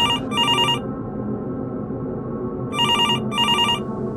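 Electronic bursts of an office telephone ringing, two short trills at the start, then a pause, then two more near the end, loud and close over a low background hum.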